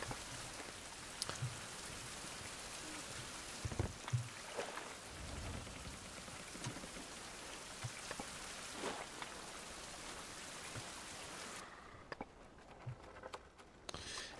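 Rain falls at night in a survival video game, a steady close patter of drops with scattered sharper taps, continuing throughout before thinning slightly near the end; no one speaks.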